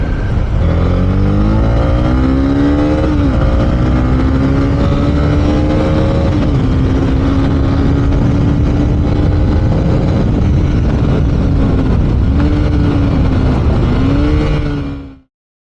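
A Honda CB300R BS6 300cc motorcycle engine revs hard while riding, rising through the gears with steady, loud exhaust drone and brief dips at each shift, close and continuous.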